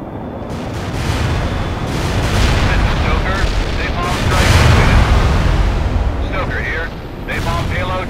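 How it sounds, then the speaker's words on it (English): Napalm bombing in the war video game The Third World War, a loud sustained roar of rolling explosions and deep rumbling blasts, with a voice talking over the fire. "Napalm payload dropped at designated coordinates."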